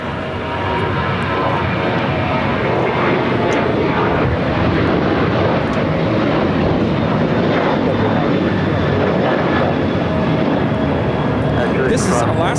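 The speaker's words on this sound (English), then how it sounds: "This is Alaska Airlines 1370 taking off to Portland on the 737-800." An Alaska Airlines Boeing 737-800 takes off at LAX, its engines producing a loud, sustained roar that dominates throughout, with people talking over it.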